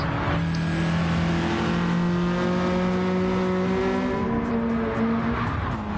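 A Mazda race car in a GTCA championship final screams through the S corners, engine revving hard with rising and falling pitch as it accelerates and shifts, loud and close, with no voices.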